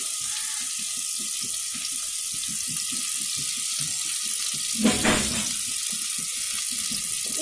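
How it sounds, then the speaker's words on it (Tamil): Onions frying in ghee give a steady, close sizzle throughout, with a brief louder disturbance partway through as they are moved in the pan. No voices. "இப்போ நெய்யில் நல்லா வதங்குது"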